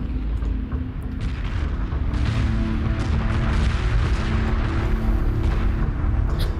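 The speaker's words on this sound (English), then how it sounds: "Notice how fast those missiles are firing, by the way." Rapid missile fire in the space strategy video game Homeworld 2, a dense continuous stream of booming launches and blasts layered over a steady low rumble, loud and sustained with no talk.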